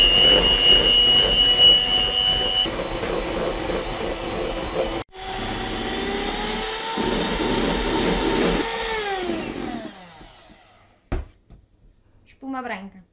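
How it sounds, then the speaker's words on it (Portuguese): An electric mixer whips egg whites to stiff peaks, a loud, steady whirring drone that shifts pitch as the speed changes, with brief pauses before it stops. Someone talks near the end. "para bater as claras em castelo, nós vamos começar a bater a uma velocidade devagar e depois vamos aumentando"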